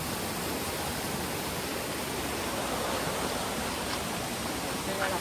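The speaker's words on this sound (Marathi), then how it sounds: "हा बघा पाण्याचा झरा वाहतो छोटासा" A small mountain stream flows steadily on a trek to Mahuli fort in the Sahyadri hills, its continuous broadband rush of water close and even throughout, with no voices.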